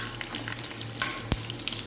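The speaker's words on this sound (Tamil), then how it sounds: "இதில் கடுகு கடலைப்பருப்பு முதல்ல தாளிச்சிக்கலாம்." Mustard seeds, chana dal and dried chillies temper in hot oil for banli upma, a steady close sizzle with light crackles and a sharp pop near the end.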